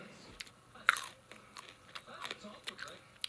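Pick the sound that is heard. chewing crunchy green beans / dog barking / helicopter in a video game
chewing crunchy green beans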